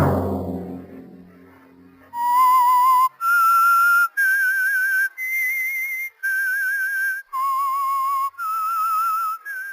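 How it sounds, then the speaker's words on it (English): The clear, melodic whistled theme of the 1955 radio drama The Whistler plays eight sustained notes in a slow, eerie tune, each note separated by a short pause, preceded by a fading chord. "Let that whistle be your signal for the Whistler each Sunday night at the same time."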